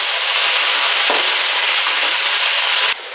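Chopped shallots and onions fry loudly in hot oil for a Kerala-style crab curry, giving a dense, steady sizzle that cuts off abruptly near the end.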